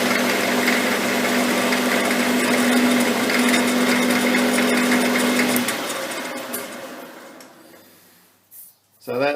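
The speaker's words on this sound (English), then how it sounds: "Just here it's a bit chattery. I had to slow the lathe down a little bit." A metal lathe cutting steel with chatter, near the shoulder of the part: a steady loud machine whine with a sustained buzzing tone for several seconds, then the cut stops and the noise fades away, with a few clunks at the end.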